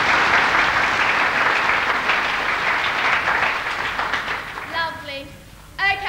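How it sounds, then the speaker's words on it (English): A theatre audience claps through a round of applause that thins out after about four seconds. A voice begins speaking over the fading tail near the end. "I want you to give them a nice round of applause"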